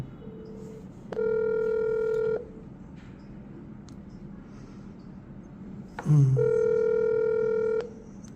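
Two long ringback tones sound through a phone line, each about a second long and separated by a pause, over faint background hiss.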